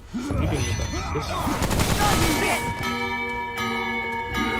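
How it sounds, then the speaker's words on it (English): Heavy bell tolls ring out in the dark action game Remnant: From the Ashes, the resonant tones lingering after a dense burst of gunfire-like crashes and clatter, loud and close. "Oh look, we got another bell in."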